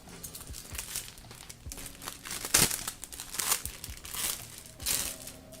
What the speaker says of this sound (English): Lots of crinkly sounds.